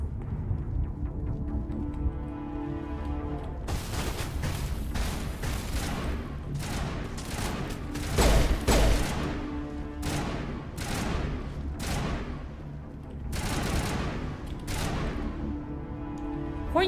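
Gunfire in the video game Mass Effect, with dense bursts of rapid shots and booming impacts rolling through a continuous loud firefight, and no voices.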